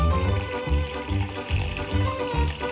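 Water is poured into a cocktail glass at a home bar, making a loud, close pouring sound that glugs in a regular rhythm of pulses.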